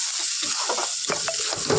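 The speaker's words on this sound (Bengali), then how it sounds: "মশলাটা খুব সুন্দর হয়ে ভাজা হয়ে গেছে, গা থেকে মশলার গা থেকে তেলটা ছেড়ে দিয়েছে" Ground spices frying in oil for Bengali chicken kosha, a close, continuous crackling sizzle with small pops and a few stirring touches throughout, no voices.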